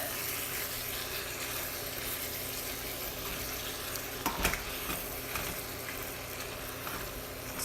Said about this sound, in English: since it's out of the casing, it'll all mix up real easy in there